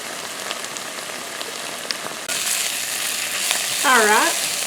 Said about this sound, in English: I just need to let my onions and my peppers cook